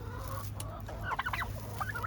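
A young male turkey gobbles in a short, rapid burst of warbling notes among clucking fowl, heard at moderate distance over a steady low background hum.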